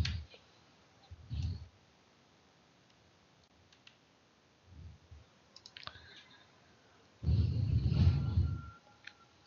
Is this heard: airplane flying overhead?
no